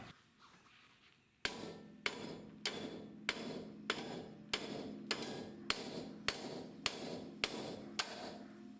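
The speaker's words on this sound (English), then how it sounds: "we were able to hammer it out pretty easily" Metal hammer blows knocking a part out of a DeLorean wheel hub ring out one after another, about a dozen sharp strikes at an even pace, loud and close, after a brief quiet start.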